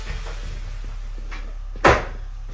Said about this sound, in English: who opened the door?